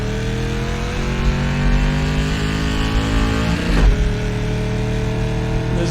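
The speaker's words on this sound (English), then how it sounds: "this car on this track is pretty much full throttle all the way around it" An SK Modified race car engine at full throttle in iRacing, a loud, steady, sustained roar with layered harmonics, holding constant with a brief shift or pitch dip near the end before resuming.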